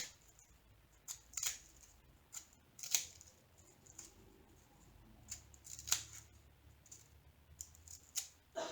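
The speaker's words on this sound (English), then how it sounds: "it's harder to cut through canvas than it is to cut through paper" Scissors snip through stiff diamond painting canvas in a series of sharp, close clicking cuts, spaced irregularly and loud over a quiet background with no talk.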